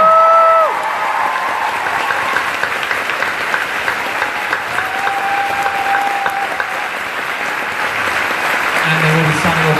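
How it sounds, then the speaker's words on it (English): An audience applauds the Firefly panelists at a convention panel at MCM London, sustained crowd clapping that stays dense and loud throughout, with a voice speaking briefly at the start. "please join me in giving a massive round of applause to our Firefly panelists"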